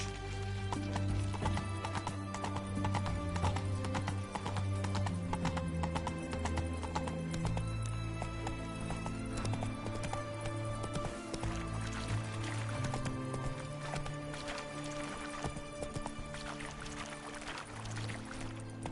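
A horse galloping in The Witcher 3 video game, with rapid, continuous hoofbeats, occasional whinnies, and game music underneath for the whole stretch.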